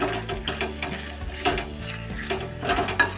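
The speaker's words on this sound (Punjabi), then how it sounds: "ਆਲੂਆਂ ਨੂੰ ਪਾ ਕੇ ਆਪਾਂ ਇੱਕ ਦੋ ਮਿੰਟ ਇਹਨਾਂ ਨੂੰ ਪਕਾ ਲਵਾਂਗੇ" Potatoes sizzle and hiss in a pan of masala for aloo paneer curry, with a spoon stirring and scraping in short strokes over a low hum.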